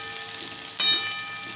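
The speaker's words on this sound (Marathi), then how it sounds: "मस्त बटाटा थोडा तेलात फ्राय होऊ द्यायचा आणि नंतर मिरची टाकायची" Potato pieces and green chillies frying in hot oil, giving a steady close hiss of sizzling with one brief louder crackle partway through.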